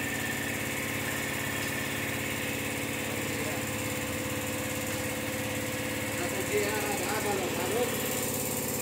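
A Toyota Land Cruiser V8 engine idles with a steady, even mechanical hum and faint whine throughout, continuous and fairly close, with a few light clicks or knocks near the end.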